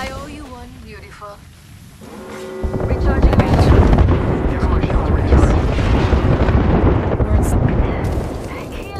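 Artillery strike explosions rumble in the video game Apex Legends, a sustained, loud barrage of booming blasts that builds after a short quieter stretch, with game voice lines heard before it.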